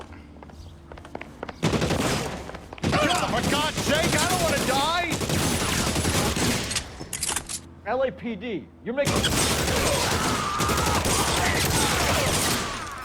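Bursts of gunfire in the video game L.A. Noire, with loud volleys of rapid shots broken by short pauses, while someone shouts desperately and in anger over the shooting.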